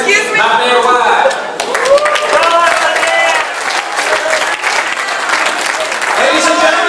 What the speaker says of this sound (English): if I can have a big round of applause for our French-speaking interpreter, Mr. Chr